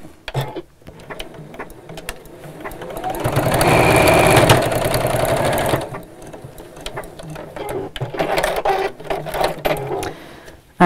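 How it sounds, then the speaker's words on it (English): A sewing machine stitches fabric for a zipped pouch, a fast mechanical whirr that builds into one loud sustained run of several seconds, framed by quieter handling clicks and rustles before and after. "pull it out and sew straight across."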